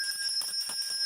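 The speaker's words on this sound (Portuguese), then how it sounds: "aparece um sininho, você aciona o sininho e pronto" A bright notification bell chime rings steadily, with sustained shimmering tones and a quick repeating flutter, loud and close with no talk.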